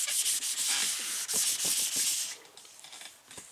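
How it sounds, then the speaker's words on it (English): Rapid, rhythmic scratchy rubbing of 180-grit sandpaper on a fiberglass-repaired dashboard pad, loud and close, easing off toward the end. "once I got through sanding with the 180"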